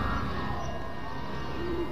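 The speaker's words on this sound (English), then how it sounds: "We have birds." Birds cooing like pigeons or doves in the video game Everybody's Gone to the Rapture, soft repeated coos and chirps over a steady ambient game background, no talking.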